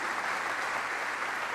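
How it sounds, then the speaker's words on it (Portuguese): Church congregation applauding, a dense, even patter of many hands clapping together, sustained and fairly close for the whole short stretch. "Uma salva de palmas para eles"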